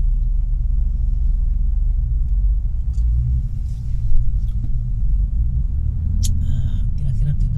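Jammed traffic on King Fahd Road in Riyadh makes a steady, heavy low rumble of slow-moving and idling cars, with a few faint passing engine swells, while someone talks over it.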